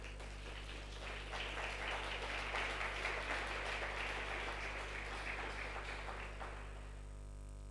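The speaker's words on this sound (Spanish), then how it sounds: "¿Cuánto le pueden dar un aplauso al Señor?" Church congregation clapping in sustained applause for several seconds at a Christian congress, a dense even patter over a steady low hum, fading out near the end.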